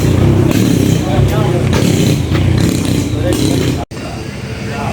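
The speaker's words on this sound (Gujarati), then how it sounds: "તો જો ટ્રેક્ટર ચાલુ થઈ ગયો અને હવે જાય ઘર તરફ" A tractor starts up and pulls away toward home, giving a loud, steady engine rumble throughout, with a brief dropout near the end. A voice talks over the engine.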